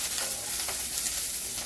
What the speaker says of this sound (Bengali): পেঁয়াজটা কড়াইতে দিয়েছি